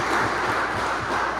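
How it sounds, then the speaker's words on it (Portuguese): A church congregation claps together in a continuous, dense wash of applause that holds steady for the whole moment. "Você pode dar uma salva de palmas ao Senhor?"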